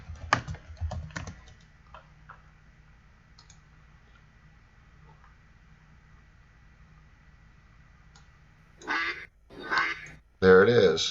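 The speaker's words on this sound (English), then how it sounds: "You can even hear a duck if you wanted to." Recorded duck quacking played back from an eBook on a device, a few loud nasal quacks near the end after a stretch of keyboard clicking and taps over a faint steady hum.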